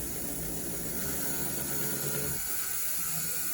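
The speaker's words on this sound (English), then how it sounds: "This is just my big old Dremel tool and a steel wire brush." A big old Dremel rotary tool spins a steel wire brush against a twisted wire bale, giving a steady close buzzing, grinding whir that holds for about two and a half seconds and then drops to a softer hiss.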